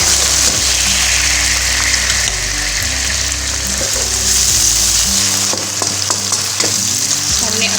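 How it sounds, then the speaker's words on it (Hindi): Medium tomatoes dropped into browned onions in a pan for stuffed tinday, a loud, continuous sizzle of hot oil close up, with occasional stirring clinks and a low background hum, no talking. "प्याज जो है वो हमारा ब्राउन हो चुका है, और इसमें मैं ऐड कर रही हूँ टमाटर।"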